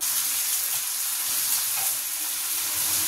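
Potato and pointed gourd fry in a pan, making a loud, continuous hissing sizzle that holds steady throughout with no talking.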